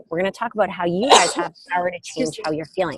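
A single sharp sneeze bursts out in the middle of continuous talking, close and loud, then the speech carries on.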